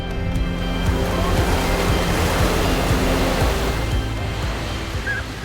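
Ocean waves roll onto a calm Algarve beach sheltered by cliffs, a loud, continuous wash of surf with no distinct breaks and no voices.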